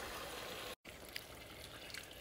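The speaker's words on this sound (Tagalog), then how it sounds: "Pagkatapos niyan ay saugan natin ng tubig." Water pours steadily into a cooking pot of rock-salted food, a close, continuous rushing splash that briefly cuts out before resuming.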